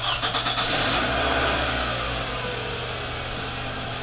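A 2002–2006 Toyota Camry 2.4L engine turns over and catches after an oil change, settling into a steady idle that hums on without any talking.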